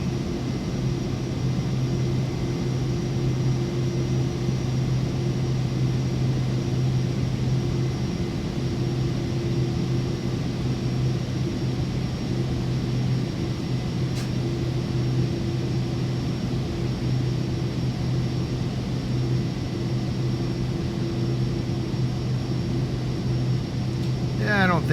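Cirrus Vision Jet climbing in Microsoft Flight Simulator, a steady, unbroken engine drone with a low hum and constant tonal whine, loud and even throughout.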